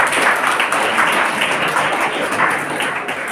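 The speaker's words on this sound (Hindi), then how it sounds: "ताली बजा दो एक बार।" Loud, close applause from students at a motivational seminar, a steady, dense burst of clapping that carries on evenly throughout.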